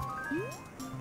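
Water level rising in The Legendary Starfy game, a short synthetic bubbling swoop that glides upward in pitch over soft game tones, faint and brief.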